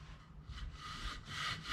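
A 3D printed part rubbed back and forth on a flat sheet of sandpaper, a faint, brief raspy scraping in short strokes.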